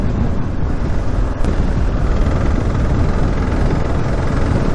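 Kawasaki KLR 650 motorcycle riding along a gravel road, a loud, continuous rumble of engine mixed with heavy wind buffeting and road noise, steady for the whole stretch.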